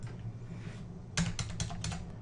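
A few quick computer keyboard keystrokes in a quiet room while measuring tools are set up in the Tracker video-analysis software, ending with a press of the enter key. The taps are close, crisp and clustered after a short pause.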